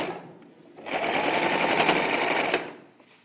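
A sewing machine stitches the front shoulder seam of a child's dress in one steady, close whirring run of under two seconds, alone without talk.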